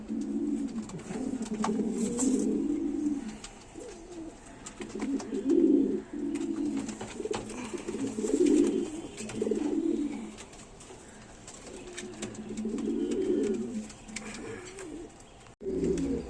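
A pair of racing pigeons coo close by in repeated soft, throaty phrases with short gaps between them.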